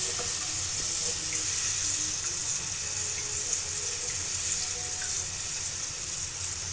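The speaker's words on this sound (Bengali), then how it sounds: "তেলটা গরম হয়ে গেছে, আর তেলেতে এই যে ব্যাটারটা এটা দিয়ে দিলাম।" Semolina pizza batter poured into hot oil in a pan sizzles with a steady, close hiss that stays even throughout.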